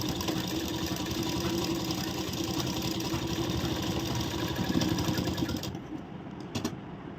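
A sewing machine runs while stitching a blouse, a steady, fairly quiet whirring hum with a fast, even mechanical pulse that stops near the end, followed by a few soft clicks.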